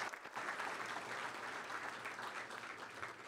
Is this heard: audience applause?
yes